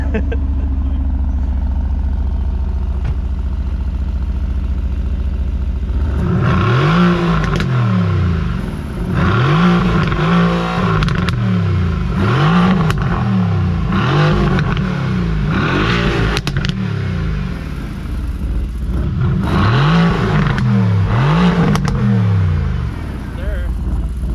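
A 2020 Mercedes-AMG GT R Pro in race mode with a lightweight crank pulley, idling low then revved repeatedly in loud rising and falling pulls, close by, with people talking at times.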